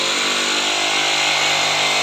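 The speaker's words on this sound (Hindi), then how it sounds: "और ये चल रही है ड्रिल मशीन।" A drill machine running at a house construction site, a loud, steady, high-pitched whine holding continuously without a break.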